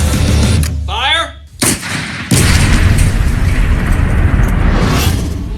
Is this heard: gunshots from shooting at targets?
yes